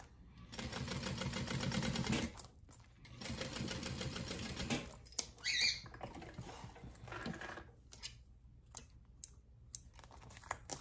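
A sewing machine stitches the seam of a crossbody bag in rapid patter bursts, pausing between runs, then gives way to lighter clicks and handling noises, close and fairly quiet with no talk.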